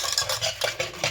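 A spoon stirs blended guava juice in a vessel, quick repeated scraping and swishing strokes up close, with no voices.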